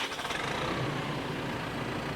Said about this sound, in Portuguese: Foi com o ronco do trator.